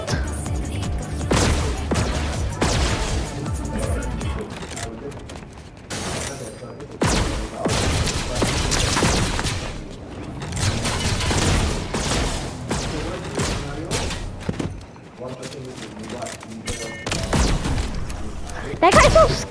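Rapid bursts of gunfire and impacts from the Star Wars update of the Fortnite video game, in loud irregular volleys and thuds with brief lulls, mixed with game music and effects, while players talk excitedly over the action.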